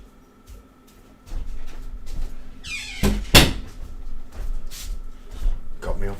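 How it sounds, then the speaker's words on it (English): A neighbour's back door is opened and shut nearby: a creaking squeak as it swings, then a sharp knock of it closing, set against low room noise with some brief movement sounds. "Next door neighbour opened the back door."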